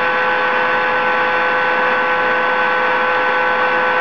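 A MiniPack MVS 31 chamber vacuum sealer draws vacuum with a loud, unbroken motor hum and a steady high whine, unchanging from start to finish.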